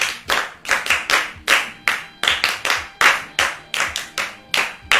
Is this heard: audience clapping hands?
yes